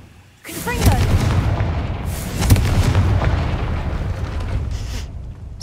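A Confringo spell blast in Hogwarts Legacy erupts loudly, with a booming explosion followed by a sustained rumbling roar and a second burst a couple of seconds later.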